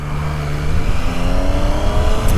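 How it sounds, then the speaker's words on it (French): A Triumph Street Triple 765 RS motorcycle on its stock exhaust revs up loudly and close, the engine note climbing steadily in pitch with no talk over it. "avec le pot franchement d'origine qui fait un très bon bruit"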